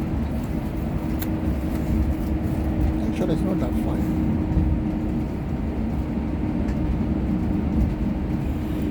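Low, steady engine rumble and road hum inside a moving bus, continuous throughout, with someone talking casually over it.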